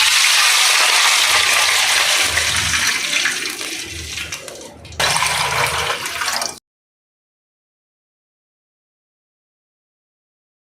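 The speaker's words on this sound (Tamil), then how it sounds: "16 cups ஆஃப் வாட்டர் வந்து ஆட் பண்ணணும்." Water gushing and splashing steadily into a pan while rava kesari is being made, loud and continuous for several seconds, then dying out into silence.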